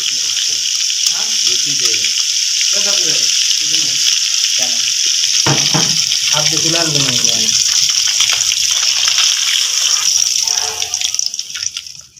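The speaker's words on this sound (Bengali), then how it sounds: "সরিষার তেল দিয়ে আমি ইলিশ মাছগুলি ভাজবো" Hilsa fish tails fry in hot mustard oil in a kadai, a loud, steady sizzle holding for about ten seconds before fading out at the end, with a voice talking over it in the middle.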